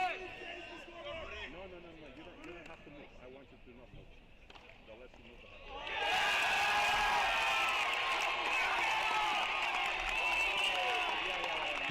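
Tennis crowd at an NCAA Division I championship round-of-16 match, murmuring quietly at first, then suddenly erupting into a loud, sustained roar that holds steady to the end.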